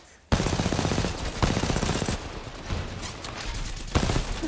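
Bots firing guns in the video game Wingman, with rapid automatic bursts that start abruptly and run steadily throughout, plus a few louder shots punching through the loud, dense barrage.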